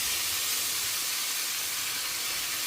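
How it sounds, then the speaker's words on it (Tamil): Mustard seeds, urad dal and chana dal temper in a hot pan with a brief, steady sizzling hiss that stays close and constant throughout. "கடலப்பருப்பை தாளிச்சுட்டு"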